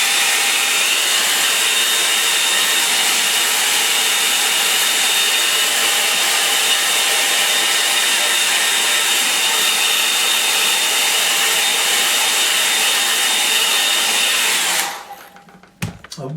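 Hair dryer blowing steadily on a watercolour snow-scene painting, a loud continuous airy whoosh with a faint whine that runs unbroken for about fifteen seconds before abruptly switching off.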